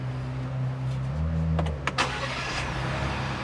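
A new Cactus Gray Ford Bronco Badlands with an automatic transmission starts up: a brief whirring crank, then the engine catches with a rising burst and settles into a steady, close idle hum.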